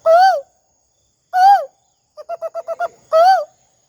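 A man in a Sylhet tea garden imitates bird calls with his mouth: three loud, clear, warbling hoots separated by pauses, with a quick run of six short chirping notes between the last two.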